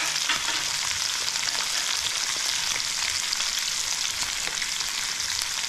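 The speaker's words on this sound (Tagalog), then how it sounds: "Gisa muna tayo." Vegetables for Ilocano pakbet sauté in a pan, producing a loud, dense, unbroken sizzle close up, with no voices.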